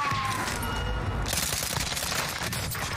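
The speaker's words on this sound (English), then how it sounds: "Stop shooting at me." Rapid gunfire from the battle royale game Warzone on Rebirth Island, a dense continuous burst of close automatic shots filling the whole moment, with a brief rumbling boom.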